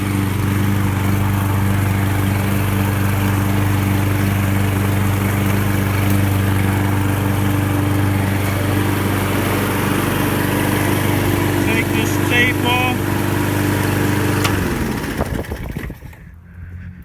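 A Toro Smartstow Recycler 22-inch walk-behind lawn mower cuts grass, its engine running loud and steady, nearby, for about fifteen seconds before cutting out and winding down into quiet.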